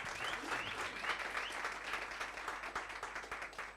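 A workshop audience applauds, many hands clapping in a brisk, fairly close, continuous patter that holds steady for several seconds with no voices over it.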